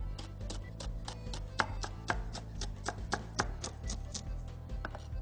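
Green onions being sliced with a knife on a cutting board, a quick, fairly even run of crisp close taps repeating roughly three to four times per second with no talking.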